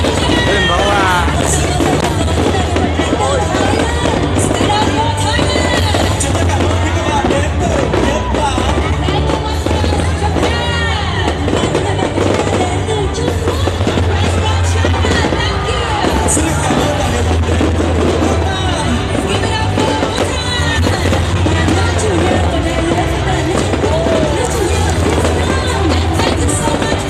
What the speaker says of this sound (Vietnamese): Các bạn đang xem màn bắn pháo hoa chùa Tam Trúc